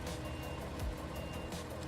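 Truck reversing beeps from the video game SnowRunner repeat in a steady rhythm of short, evenly spaced tones, faint and mixed into background game noise.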